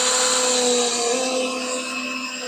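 A power driver runs steadily while driving the bottom screws of a towel bar into a wall, giving a continuous whirring motor whine close by.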